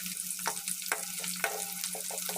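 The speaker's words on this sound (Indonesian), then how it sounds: "Saya goreng juga bawang putih dan bawang merah" Thinly sliced garlic and shallots fry in hot oil for crispy topping, a soft steady sizzle broken by a few light stirring clicks, close and quiet with no talk.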